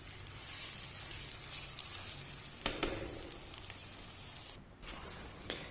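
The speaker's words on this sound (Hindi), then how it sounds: "कम से कम 5 से 7 मिनट हमने इसको भून लेना है, इस प्याज और लहसुन अदरक" Boneless chicken sizzles in a pot with onion, garlic and ginger, a steady quiet frying hiss with occasional stirring scrapes and pops, no voices.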